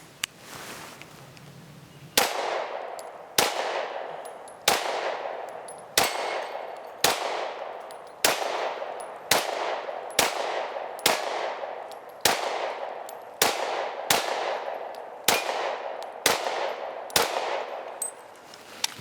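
A Taurus G3 full-size pistol fires fourteen or so sharp, loud shots at a steady pace, each crack ringing out briefly before the next, with a quiet lead-in before the first round.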